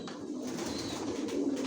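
Grizzle racer pigeons coo softly in a steady low murmur, fairly close, with no voices over them.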